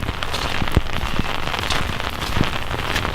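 Steady, close rain pattering densely on an umbrella outdoors, with occasional sharper drop impacts and no talk.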